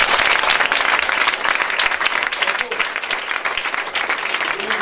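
An audience at a church service with a prophet breaks into sustained loud applause, dense clapping that stays strong for several seconds and thins slightly toward the end.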